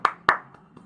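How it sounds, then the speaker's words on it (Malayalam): Two sharp hand claps ring out close by as brief applause, followed by two fainter claps trailing off in under a second. "അവനൊരു കയ്യടി അറിയിക്കുന്നു."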